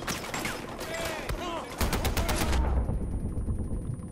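Rapid machine-gun fire from a mounted gun in the Far Cry 4 map editor, a dense continuous burst of loud, close shots with a voice talking over the gunfire at first.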